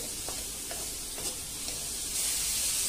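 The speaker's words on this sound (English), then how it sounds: "let's saute this on a high flame for about 2 to 3 minutes" Chopped onions sauté on a high flame in a pan for Mumbai street-style pav bhaji, a steady bright sizzle with a few soft stirring scrapes, growing slightly louder toward the end.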